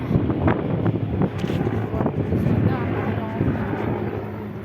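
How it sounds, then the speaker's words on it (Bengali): A helicopter passes over a rooftop garden after rain, a steady broad rumble with wind buffeting the microphone, while people talk nearby. "হেলিকপ্টার যাচ্ছে।"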